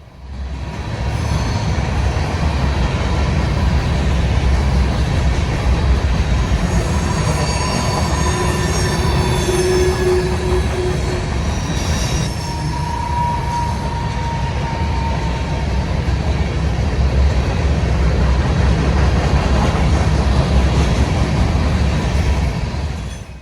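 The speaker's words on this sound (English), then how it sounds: "The leading locomotive that I nearly missed are two BNSF FD70 ACEs, numbers 8531 and 8402." Freight train led by BNSF SD70ACe locomotives 8531 and 8402 rolling past at Mammoth Spring State Park, Arkansas, a loud steady roar of wheels and cars with squealing rail tones, sustained throughout.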